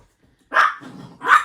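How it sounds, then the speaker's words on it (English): An excited dog barks twice, close and loud, with a brief rumbling growl between the sharp barks. "the dog's very excited"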